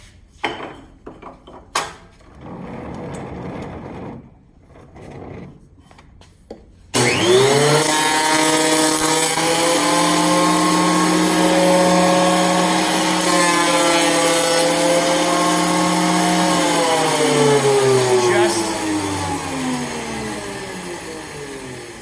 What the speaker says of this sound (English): Let's go over to the planer.